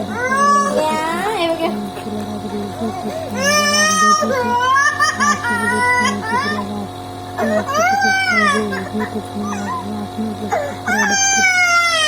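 A baby cries loudly in repeated rising and falling wails at close range, with a steady background hum and an adult voice talking underneath.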